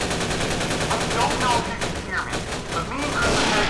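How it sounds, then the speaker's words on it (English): Rapid bursts of gunfire in a Half-Life 2 mod crackle continuously, loud and dense, with a voice briefly heard underneath. "I hear gunfire."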